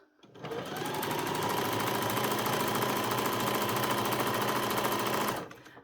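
Sewing machine stitching the inside leg seam of jogging bottoms, a steady rapid mechanical whir that runs continuously for about five seconds, close and clear, with no talking.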